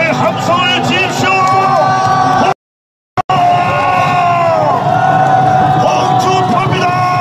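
A loud crowd shouts and cheers in a sustained roar at a Hong Joon-pyo presidential campaign rally in Daejeon, with a brief cut to silence midway before the cheering resumes.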